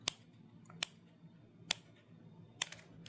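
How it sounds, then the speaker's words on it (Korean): Scissors cut plastic canvas along a drawn line, giving four sharp, close snips spaced evenly about a second apart against a quiet background. "얘 선 그어놓은 오른쪽 있는 걸 요렇게 다 잘라줍니다"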